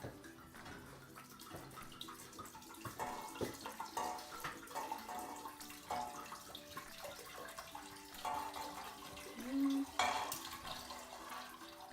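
Red wine poured from a bottle into a pot for mulled wine, a soft continuous splashing trickle with light clinks of cookware, faint and close, lasting several seconds.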